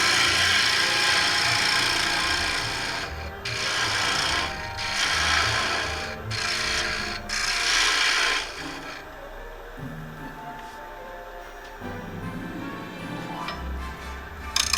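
A turning tool cuts inside a red ironbark bowl on a lathe, giving loud rasping, scraping bursts that pause and resume in uneven strokes over a steady motor hum, quieter toward the end.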